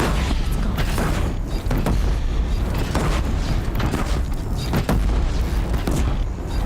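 A disc launcher firing in Horizon Zero Dawn during a fight with a tied-down Thunderjaw, a steady stream of loud mechanical booms, creaks and whooshing impacts packed tightly together with no pauses.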